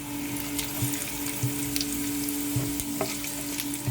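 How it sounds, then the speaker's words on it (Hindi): Cumin seeds spluttering in hot oil while tempering for zeera aloo, a busy close sizzle with sharp pops and crackles scattered across a few seconds, no talking. "हमारे ज़ीरे को हम तड़कने देंगे अच्छी तरह से।"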